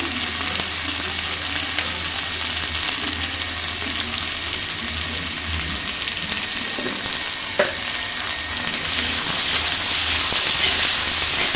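Turmeric and chili powder spices frying in a pan for a river crab curry, giving a steady close sizzle and hiss throughout with a brief clatter partway through.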